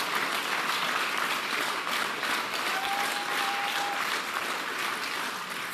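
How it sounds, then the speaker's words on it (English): Sustained audience applause at a political speech, a steady dense wash of many hands clapping throughout, with faint crowd noise and a brief whistle-like tone in the middle. "The pause, every line gets applause."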